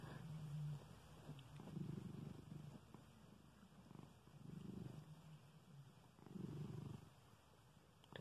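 A cat purrs close up in slow rhythmic waves, each rumbling breath swelling and fading about every two seconds, soft and steady with no talk over it.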